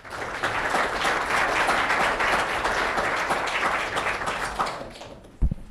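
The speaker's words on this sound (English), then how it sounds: "Hold the applause till after I'm finished, right?" Audience applause greets a speaker being welcomed at a talk, a dense steady clapping that fills the room for about five seconds before tapering off, ending with a single sharp knock.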